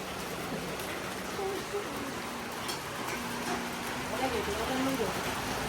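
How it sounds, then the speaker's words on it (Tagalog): Steady broadband hiss of heavy rain pouring throughout, with people talking faintly underneath in Filipino. "Dito sa Alon gani oh, grabe ulan dito ay."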